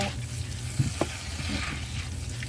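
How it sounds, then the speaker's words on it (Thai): Korean-style glass noodles stir-fried with sesame oil in a pan, a soft continuous sizzle with a few quick stirring taps, heard without talk. "น้ำมันงาเพิ่มความหอม แล้วก็จะผัดคลุกเคล้า"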